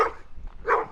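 Two loud, close barks from big dogs, spaced under a second apart, with a short quiet gap between them.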